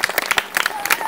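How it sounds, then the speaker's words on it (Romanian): Brief burst of crowd applause for women arriving at a folk festival diploma ceremony, close, quick irregular claps over a faint steady tone. "vă rugăm aplauze pentru aceste frumoase doamne."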